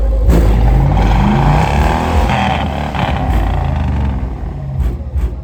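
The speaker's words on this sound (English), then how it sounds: "And the exhaust blowing, man." A loud car exhaust rumbles and revs continuously, a deep throaty engine drone with a few sharper bursts near the end.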